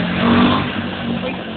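A motorcycle engine revs close by in a steady, throaty drone that swells early and then holds level, with voices talking over it.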